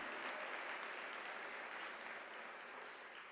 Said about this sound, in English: Gomba, and colleagues, ladies and gentlemen, can we give a warm round of applause to our PhD graduates?